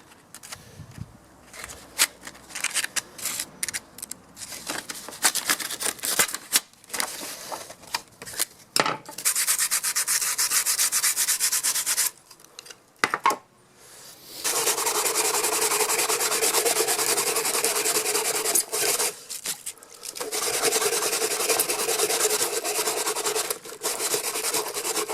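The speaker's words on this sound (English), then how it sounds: "Falling apart, the sandpaper. Cheap eBay sandpaper, it's absolute rubbish." A Suzuki Bandit dash light is sanded by hand with coarse 80-grit sandpaper, a loud, gritty rubbing in long continuous bursts broken by short pauses.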